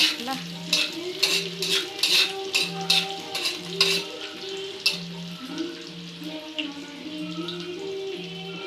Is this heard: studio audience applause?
no